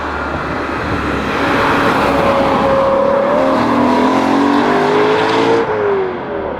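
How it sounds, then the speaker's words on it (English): A sports car engine revs loudly with exhaust valves closed, a rising, sustained intake roar, close and continuous, climbing steadily in pitch. "Right now I have the valves closed on the exhaust so that you can really get the induction noise to"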